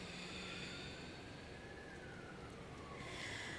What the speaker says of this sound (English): I apologize for the siren, if you can hear it.